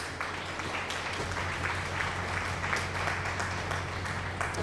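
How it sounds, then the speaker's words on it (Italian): A crowd's sustained applause during a Farming Simulator 22 livestream, steady and dense clapping that holds at an even level throughout with no clear pauses. "Applausi, applausi."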